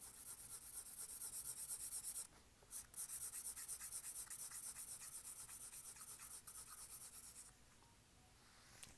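A pencil shades across paper in rapid back-and-forth scratchy strokes, close and dry, pausing briefly partway through and then continuing before tapering off.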